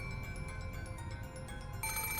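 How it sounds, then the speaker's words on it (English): Telephone ringing in the visual novel Umineko When They Cry, a bright electronic trill repeating in rapid pulses, steady and clear, slightly louder near the end, with no voices. "The ring of the phone, which had once sounded like a scream for help, now started to sound like a ghastly lure from some unknown person."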